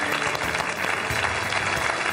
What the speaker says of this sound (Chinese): 咱掌声欢迎吧